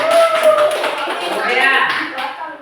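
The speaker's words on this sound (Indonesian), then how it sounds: "Tepuk tangan dulu." A class of students claps together in a classroom, a dense burst of applause lasting a couple of seconds, with voices mixed in.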